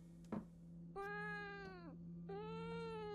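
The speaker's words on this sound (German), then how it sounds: "Da ist die Katze. Miau." A cat in the horror game Fears to Fathom gives two clear, drawn-out meows close by, the first sliding downward at its end, preceded by a brief knock over a steady low electrical hum.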